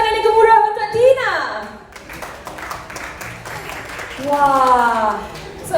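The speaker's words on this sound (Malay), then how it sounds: "tepuk tangan yang gemuruh untuk Tina" An audience applauds a Ratu Hijabista 2020 finalist at a press event, bursts of clapping running under loud, sliding voices and exclamations at the start and end.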